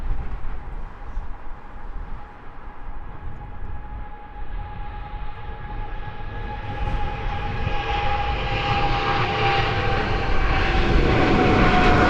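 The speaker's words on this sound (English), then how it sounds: "British Airways 159 is on your screens now. It's a 777-200ER." A 28-year-old British Airways Boeing 777-200ER roars at Heathrow Airport, its jet engines giving a broad, steady rumble and whine that builds louder toward the end, with no talking.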